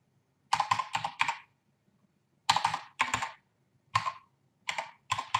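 Keys clatter on a computer keyboard while a bank card number is entered, in several quick bursts of clicks separated by short pauses, close and clear with no talk.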